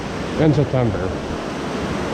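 A waterfall at a recently rebuilt dam gives off a steady, broad rushing roar that fills the whole clip, with a man's brief speech near the start over it.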